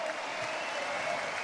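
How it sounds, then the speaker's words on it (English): Crowd applause and cheering at a professional boxing match after a twelve-round bout, a brief steady wash of sound with faint voices mixed in. "a round of applause for two boxers who gave everything"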